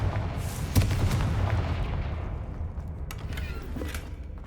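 A Confringo blasting spell goes off in the Hogwarts Legacy video game, a loud booming burst that rolls into a long, fading rumble with no talk over it.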